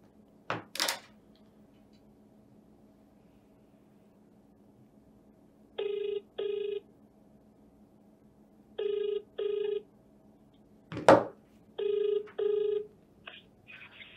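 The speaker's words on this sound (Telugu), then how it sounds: "ఒక్కసారి కాల్ చేద్దాం." Ringback tone of an outgoing phone call, repeating as paired rings at regular intervals, with a couple of sharp clicks or knocks in between; moderately loud over a quiet steady hum, no voices.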